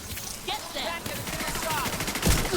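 A powerful gun in the video game The Division 2 fires in rapid, continuous automatic bursts, loud and dense, with bullet impacts and game effects and a voice talking underneath.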